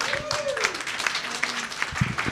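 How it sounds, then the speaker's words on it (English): Applause from an awards ceremony audience for the behind-the-scenes print crew at a portrait photography awards event, a steady mid-level patter of clapping with a faint tonal glide and some background murmur. "Can we have you guys, print turners, come out for a round of applause?"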